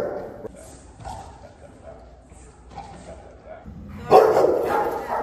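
A Rottweiler barks and yips in short bursts, one louder outburst near the end, mixed in with a voice talking throughout.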